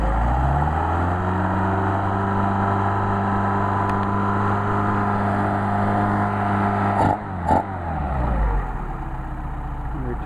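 A Mercedes 190SL engine running on Solex carburetors, idling with a loud, steady, even drone that briefly dips and surges near the end before settling back.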